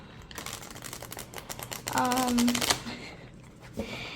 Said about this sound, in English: Let's see if we can shuffle them.